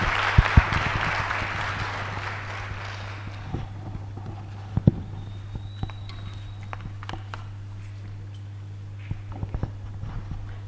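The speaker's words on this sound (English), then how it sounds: "let us give a befitting hand clap to our guest of honor" A book launch audience at Makerere University Press applauds the guest of honor: a brief burst of clapping that quickly thins out into scattered claps and shuffling over a steady background hum.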